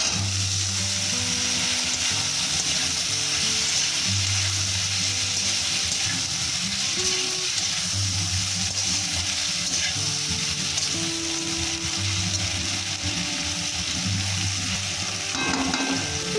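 Four chopped raw tomatoes go into a pan of fried onions for a morola fish chorchori, giving a loud, steady close sizzle with occasional stirring scrapes.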